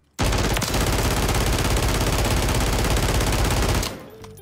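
Sustained automatic gunfire in the video game Warzone, a dense rapid stream of shots lasting several seconds at high volume, then abruptly stopping with a brief trailing tail.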